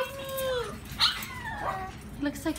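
Small French bulldog puppies give high yips, whimpers and short barks close by, several overlapping bursts in quick succession while people talk softly nearby.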